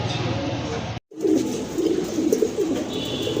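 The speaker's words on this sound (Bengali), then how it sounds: "এই যে দেখেন আপনারা এক জোড়া লাহরি কবুতর" Lahori pigeons, a pair, give low cooing calls close by, a steady murmuring coo running through most of the stretch after a brief silent break near the start.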